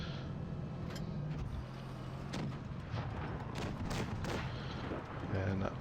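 Tank cannons firing in World of Tanks Blitz as a Soviet T-44-85 medium trades shots with a P-43, sharp booms over a rumbling engine drone.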